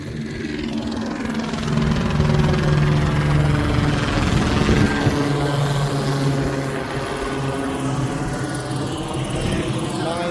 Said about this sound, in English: Every time I turn on the camera, it's always the helicopters